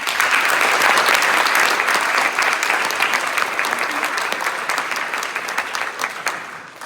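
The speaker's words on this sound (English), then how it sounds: "Please give a final round of applause for all our MVPs and for all our runners." A school sports assembly audience gives loud, dense applause for athletes, steady hand clapping that fills the room and slowly tapers off toward the end.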